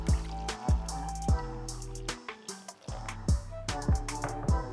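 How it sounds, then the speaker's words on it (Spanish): Water is poured into a bowl of sourdough starter for pizza dough, a close series of irregular plops, drips and bubbly gurgles as the liquid splashes and fills. "Vamos a utilizar 680 mililitros de agua."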